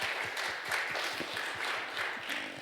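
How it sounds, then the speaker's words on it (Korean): A church congregation at a revival service clapping together, fairly quiet and slightly distant, with a rhythmic, evenly spaced pattern of claps sustained throughout. "박수 한번 더 하겠습니다."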